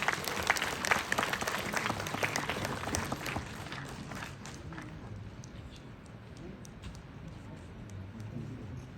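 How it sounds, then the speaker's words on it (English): A crowd at a student freshers' meet applauds, dense clapping loudest at the start and gradually thinning and fading over several seconds, with some voices in the room. "Let's all give a big round of applause for all these freshers."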